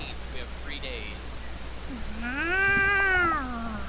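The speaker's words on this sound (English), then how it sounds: "The meow thing. When they get pissed." A cartoon cat meows in the Nekopara Vol. 0 video game, a single long, rising-and-falling yowl that swells loudly near the end, while soft background noise hums beneath it.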